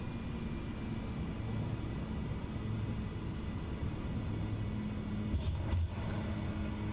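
Simulated Pilatus PC-6 Porter turboprop engine idling in Microsoft Flight Simulator, a steady low drone with broadband rushing noise, holding even throughout with a brief brighter swell near the end.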